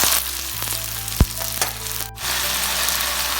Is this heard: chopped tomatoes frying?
yes